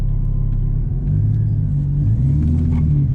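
A Mercedes SLK32 AMG accelerating hard on a pull, a loud steady low engine rumble with a rising drone, heard from inside the car without talk.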